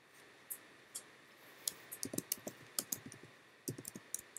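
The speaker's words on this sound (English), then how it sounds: "I'm just typing up in the chat really quickly." Quiet keyboard typing during a live chat hangout, with irregular clusters of soft key clicks and short pauses between bursts, close and alone.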